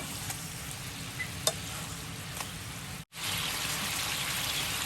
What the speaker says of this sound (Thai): เนี่ยค่ะคลุกเคล้าให้ทั่วน้ำซอสนะคะ แล้วก็เดี๋ยวรอให้น้ำซอสงวดสักนิดนึงนะคะ